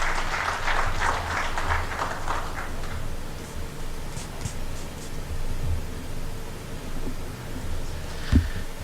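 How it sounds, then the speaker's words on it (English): A crowd at a Kenyan Council of Governors induction event applauds, loud and dense at first, then thinning into scattered claps and rustling before fading out. "Another round of applause to our chief guest"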